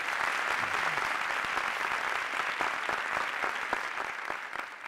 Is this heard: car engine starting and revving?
no